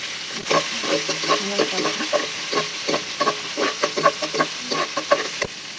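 Onions frying in a pan for fish curry, a loud close sizzle broken by repeated stirring scrapes and clacks in an uneven rhythm, with no speech.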